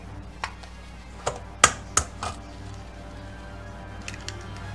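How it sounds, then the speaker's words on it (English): Eggs being cracked into a bowl: several sharp, separate taps and cracks spread over a few seconds, close and fairly quiet, with a faint click or two near the end. "in this bowl, let's crack our eggs"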